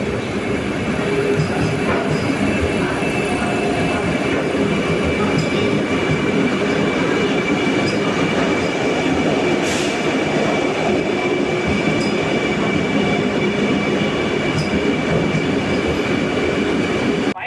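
The Shivamogga weekly express train runs at a station, giving a loud, continuous rumble of rail cars with steady wheel noise and faint squeals throughout.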